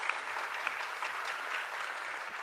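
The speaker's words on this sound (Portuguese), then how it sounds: "Vamos dar uma salva de palmas para a nossa juventude." Steady applause from a church congregation for its youth group during a third Sunday of Easter service, a dense, even clatter of many hands with no voices over it.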